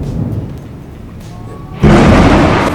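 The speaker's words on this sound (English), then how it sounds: "me watching a huge thunderstorm outside" During a huge thunderstorm outside, a sudden loud thunderclap bursts out of a low rainy rumble and keeps roaring broadly until the end.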